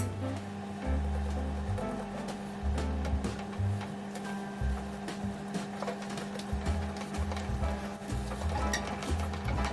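A whisk beats chocolate cake batter in a bowl, giving a close, steady run of quick scraping taps against the sides with a faint low hum underneath.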